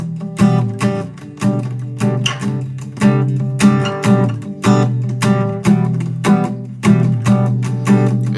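An acoustic guitar strums a chord progression in a steady rhythmic pattern, with full, bright chords ringing out on their own at close range and no talking.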